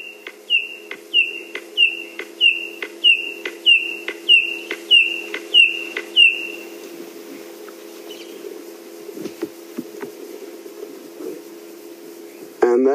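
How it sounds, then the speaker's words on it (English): A red-crested korhaan on safari gives its mating call, a run of about ten loud, evenly spaced rising whistles over roughly six seconds, followed by quieter ambient bush sounds and a steady low engine hum underneath. "And that is a red-crested koorhaan,"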